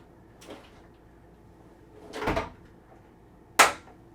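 Middle pane of a three-pane sliding door on a 2016 Venom fifth-wheel trailer. It slides with a soft scrape, then a longer rolling rumble, and ends in a sharp latching knock. There are no voices.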